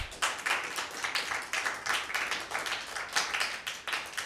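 An audience at a Father's Day poetry program claps before a poem recital, giving a brief run of fairly quick, uneven claps from a modest group, somewhat distant and soft.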